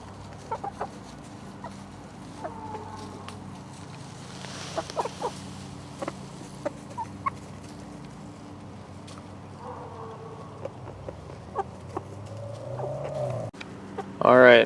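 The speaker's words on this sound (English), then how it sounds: "The chickens are pecking at the base of the tripod," Chickens cluck softly near the camera while pecking at the base of a tripod and at boots, with scattered sharp taps and low murmuring clucks over quiet outdoor ambience, a louder burst at the end.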